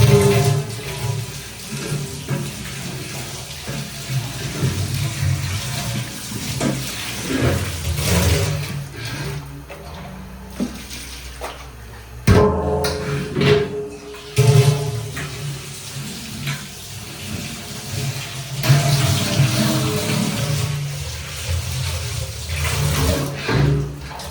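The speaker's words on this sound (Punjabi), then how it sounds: "ਮੈਂ ਬਾਥਰੂਮ ਦੇ ਵਿੱਚ ਵੱਡੀ ਟੂਟੀ ਨਾਲ ਹੀ ਧੋਵਾਂਗੀ ਡਰਮ" A large flour drum is rinsed under a big bathroom tap, water splashing and rushing unevenly for a long stretch, with pauses and knocks as the drum is moved and scrubbed.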